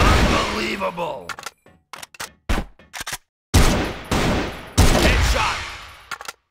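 Rapid automatic bursts from an AK-47 Phoenix rifle in the shooter game CrossFire, loud and close. Short clipped volleys are broken by brief silences, then longer sustained strings of fire follow.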